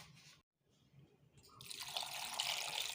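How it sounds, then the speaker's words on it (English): After a brief quiet moment, water pours steadily and splashes into a cooking pot, growing louder and continuing until the end, with faint background noise before. "We add some water."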